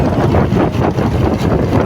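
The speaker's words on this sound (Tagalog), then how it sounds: "Sobrang hangin dyan." Loud, steady wind buffeting the microphone, a continuous rushing roar with gusty swells throughout.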